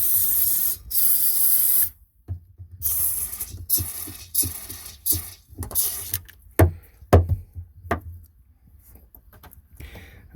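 Fogging oil sprayed from an aerosol can into a snowmobile engine for winterizing: a loud, steady two-second hiss, then a string of short, sharp spray bursts with brief pauses and faint rattles between them.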